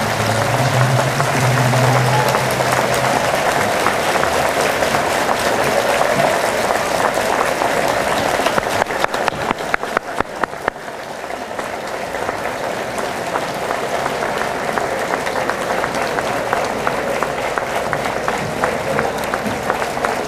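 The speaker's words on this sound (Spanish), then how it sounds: "Estos aplausos son en señal de congratulación, deseándoles muchos éxitos en su transcurrir profesional" A standing crowd applauds newly registered engineers at a professional association induction ceremony, sustained loud clapping that dips briefly midway, then continues steadily to the end.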